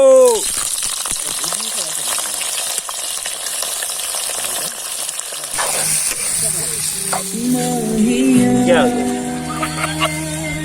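Onions and spices hit hot oil in a wok by a riverside, giving a loud, steady sizzle and crackle throughout. Stirring adds bursts, and a voice speaks over the frying toward the end.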